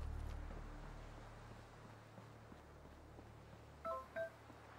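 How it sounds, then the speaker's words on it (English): Two short electronic phone beeps sound near the end, clear tones standing out over a low steady background hum during a Fallout 4 session. "Shut up, phone."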